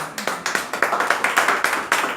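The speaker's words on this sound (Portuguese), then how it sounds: "Dê uma salva de palmas ao Senhor" A church congregation claps together for the Lord, giving a steady rhythmic beat of sharp, close claps at roughly four or five per second.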